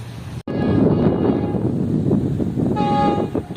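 Karakoram Express passenger train pulled by a GU40 diesel locomotive arriving at Dabheji station, a steady rumble of the approaching train with sustained horn blasts near the start and again toward the end.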